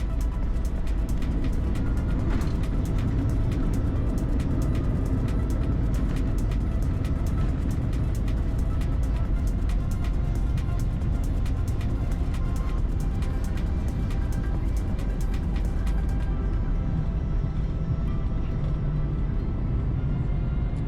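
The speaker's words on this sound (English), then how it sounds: "A very smooth landing concluded this very decent flight" Brussels Airlines Euro Business Class airliner, the Tin Tin logojet, landing on runway 25 at Brussels, heard from inside the cabin as a loud, steady broadband engine and airflow roar with rattling that eases slightly near the end.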